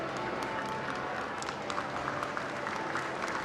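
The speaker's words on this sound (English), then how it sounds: "The crowds lining Whitehall applauded." Crowds lining Whitehall at Margaret Thatcher's 2013 funeral applaud in a steady, dense wash of clapping, heard from some distance with no break.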